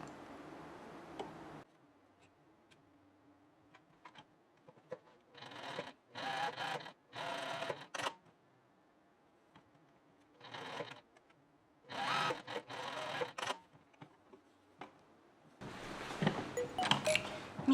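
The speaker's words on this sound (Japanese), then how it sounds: "見返しの肩を縫います" A sewing machine stitching the shoulder seam of a facing on a simple raglan-sleeve top, running in several short bursts of rapid mechanical whirring separated by quiet pauses and faint ticks.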